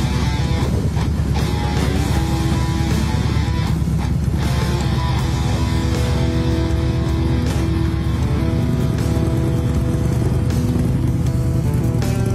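A big-displacement motorcycle ridden along a road, its engine giving a loud, continuous drone with steady harmonic tones and rushing wind noise throughout, with no talk.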